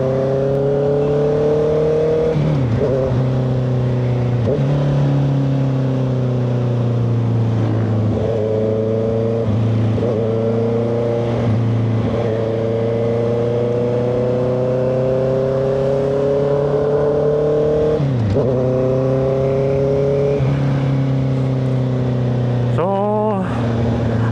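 A 2025 Honda CBR650R inline-four motorcycle cruises on a night ride, its steady engine hum rising and falling through gear changes with short revs near the end, under continuous wind rush. No one speaks.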